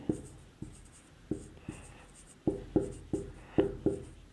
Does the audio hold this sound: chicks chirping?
no